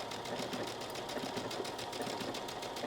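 A sewing machine stitching along the edge of a yellow fabric applique, a steady fast needle chatter with an even pulsing rhythm, close and alone.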